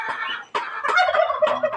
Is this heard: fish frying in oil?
no